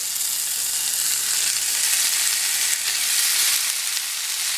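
Marinated ground beef fries in oil with garlic and ginger, giving a steady, loud, close sizzle that runs unbroken throughout with no voices.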